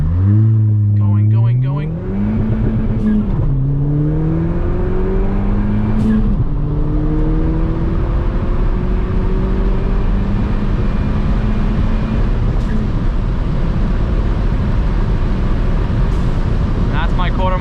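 Ford Fiesta ST on an E30 tune accelerating hard through a quarter-mile run, heard from inside the car, with engine pitch climbing repeatedly through several gear changes under a loud, constant roar.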